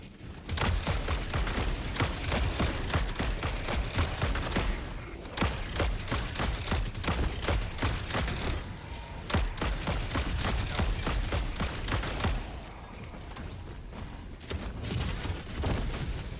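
Rapid, continuous bursts of laser shotgun fire in Helldivers 2, loud and dense with only brief gaps, carrying on for over fifteen seconds with no talking.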